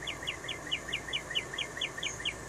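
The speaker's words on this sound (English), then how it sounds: "Well, that bird's carrying on" A bird outdoors calls in a fast, steady series of short bright chirps, about five per second, fairly faint against a constant background hiss.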